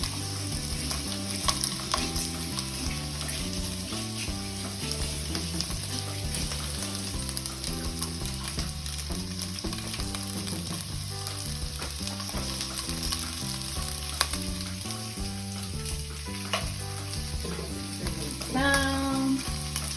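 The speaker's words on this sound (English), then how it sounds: "Stir fry." Tofu sizzles and crackles steadily in a hot pan as it is stir fried with chopsticks, an even, close frying hiss with occasional scraping, no voices.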